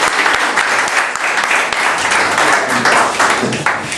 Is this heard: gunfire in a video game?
no